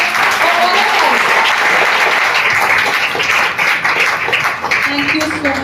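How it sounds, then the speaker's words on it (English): Sustained, dense applause from an audience at a Foundation Day gathering tied to a spina bifida awareness camp, loud and steady throughout with faint voices mixed in beneath the clapping. "A big round of applause for all of us."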